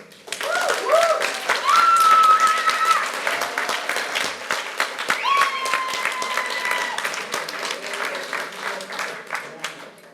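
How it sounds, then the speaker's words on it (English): Audience at the INSIGHT Awards 2024 breaks into a sustained round of dense applause, loud and close, with faint sustained tones running over the clapping throughout. "give a big round of applause for themselves and that person that helped them"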